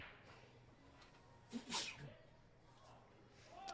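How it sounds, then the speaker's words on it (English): A single sharp sneeze bursts out near the microphone, a quick inhale and explosive release, with faint room noise before and after. "Perfect time to sneeze."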